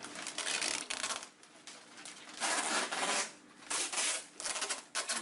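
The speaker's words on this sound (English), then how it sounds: "I'm going to take a piece of tape, and I'm going to make kind of like the hat band for the hat." Strip tape is pulled and wrapped around a paper sombrero to form a hat band during a classroom craft lesson, giving a close series of loud, scratchy ripping bursts with short pauses between them.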